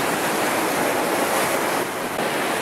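Baltic Sea surf and wind at Hel, a steady broadband wash of waves with light wind noise on the microphone, continuous and fairly loud with no talk.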